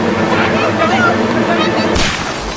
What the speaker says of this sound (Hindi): चक्कर में किंग पे गोलियां चलवा दी, अब क्या होगा?